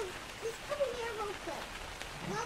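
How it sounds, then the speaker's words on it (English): Steady rain falls in the video game ARK: Survival Evolved, making a soft, continuous hiss beneath a person talking. "Oh, of course it's raining"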